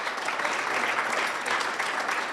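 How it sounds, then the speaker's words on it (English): A crowd applauds a governor at a Missoula, Montana gathering, steady dense clapping that holds at an even level for a couple of seconds. "let's give a great round of applause to a great governor"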